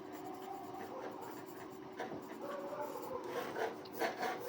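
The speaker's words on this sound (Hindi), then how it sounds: "यहीं पे मैं लिख देती हूँ, फ्री हैंड" Pencil shading freehand on paper during a fine art drawing lesson, a steady soft scratchy rubbing that runs continuously, close and fairly quiet, with a few slightly stronger strokes toward the end.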